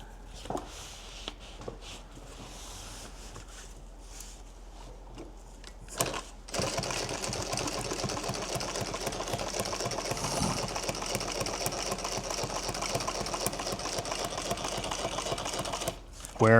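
Sewing machine stitching Velcro onto a duffle bag runs in a rapid, steady mechanical chatter for about ten seconds after some quieter handling sounds, with a person speaking near the start.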